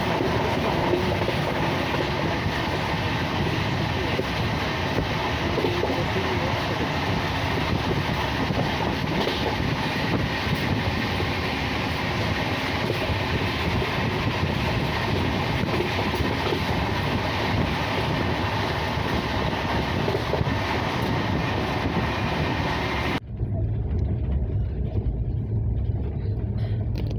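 A Kerala Rajdhani Express train runs on the rails with a loud, continuous rumble and clatter close by, steady throughout until an abrupt cut near the end leaves quieter low thuds.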